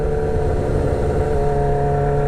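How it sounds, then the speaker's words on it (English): A 2006 Suzuki GSXR 1000 motorcycle with a very loud exhaust drones steadily and close, a continuous throbbing engine roar under load while riding, with no talk. "I know this exhaust is way too loud"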